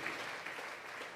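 Congregation clapping during a Sunday church service, a fairly faint, even wash of hand claps from the worshippers with no voices over it.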